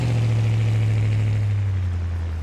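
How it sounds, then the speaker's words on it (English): A car engine in BeamNG held in low gear, a loud, close, steady low hum with a deep tone that drops slightly in pitch near the end, running for a few seconds. "we're in low gear, so just trying not to be really high in the revs"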